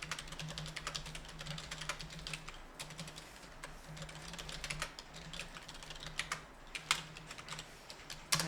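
Data is typed into an Excel spreadsheet on a computer keyboard, with steady, close key clicks in a continuous rapid patter and a few louder keystrokes toward the end, with no talk.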